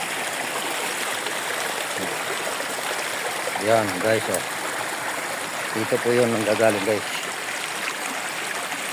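Mountain cave water flowing at Kabuayahan falls makes a steady broadband rush, close and continuous, while someone talks over it in short bursts.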